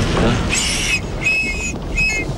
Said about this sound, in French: Fais un test de sifflet, on sait jamais